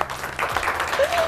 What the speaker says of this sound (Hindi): आप लोगों की बहुत सारी तालियों में मेरे लिए बहुत इज्जत का मुकाम है उनका, बुशरा रहमान साहिबा।